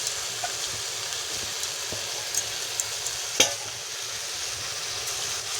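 Rice being stirred into a pot of khichdi with turmeric and salt, a steady soft sizzle with a few scraping stir strokes and one sharper clink, close and without talk.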